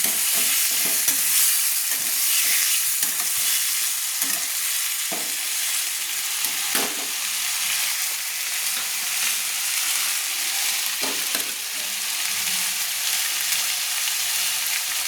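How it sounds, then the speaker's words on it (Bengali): Chopped large onion fries in a pan for a bitter gourd and potato dish, a constant loud sizzle broken by repeated scraping stirs of a spoon, close up and with no voices. "একটা বড় সাইজের পেঁয়াজ কুচিয়ে আমি দিয়ে রেখেছিলাম, দিয়ে দিলাম, ভালো করে নেড়ে নিচ্ছি।"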